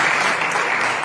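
Church congregation applauding together, a dense, steady burst of clapping at close range that fills the whole short moment without any voices.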